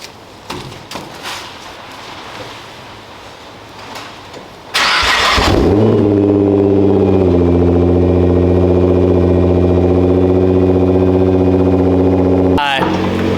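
After some faint handling noises, a twin-turbo car engine cranks and fires up loudly on a cold start, then settles into a high, steady idle that holds until the end.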